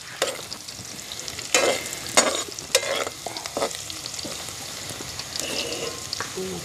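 Ilocano adobo is stirred and fried in a pot: irregular scraping and clanking strokes over a soft, steady sizzle, close by and without speech.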